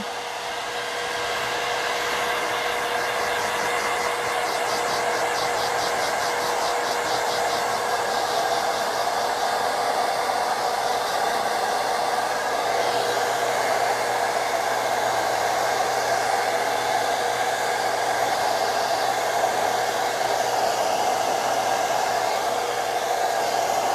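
A hair dryer blowing steadily at the roots of the hair during a home hairstyling session: a constant, loud, close whooshing hum with a fixed motor whine, unbroken for the whole stretch and with no talk.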